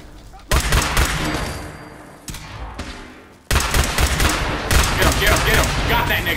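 Rapid bursts of pistol fire ring out in a post-apocalyptic wasteland video game, loud, close volleys of sharp cracks broken by a brief lull and then resuming in quick succession.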